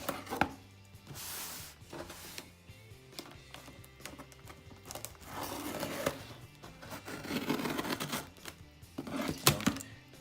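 A knife slices open a Stitchfix cardboard package box up close, in a run of rasping cuts, scrapes and taps that swell and fade over several seconds.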